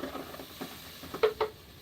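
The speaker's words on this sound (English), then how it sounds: "my pot is hot, so I'm just going to pour this mixture in." Plantain fufu mixture poured into a hot pot gives a soft, quiet sizzle and stirring patter, with a couple of brief louder splats near the end.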